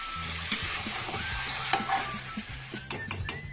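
Chicken pieces stir-fried with spices in a pan give off a close, steady sizzle, broken by occasional sharp spatula clinks and scrapes against the metal, with no voices.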